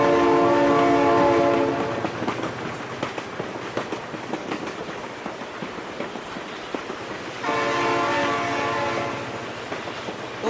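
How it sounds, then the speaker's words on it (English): A passing train in the video game BeamNG sounds its horn in long, loud blasts, with rattling clickety-clack of the wagons in between and a second horn blast near the end. "Oh my god, train!"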